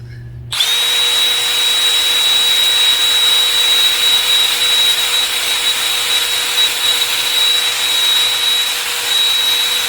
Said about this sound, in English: so I'm trying to wire wheel it off, and this is how tough it is